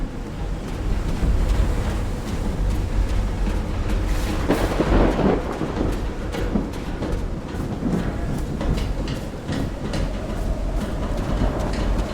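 A thunderstorm in the video game Call of the Sea rolls on steadily, with heavy rain and deep, rumbling thunder swelling in the middle of the stretch. It is loud and continuous, with no talking.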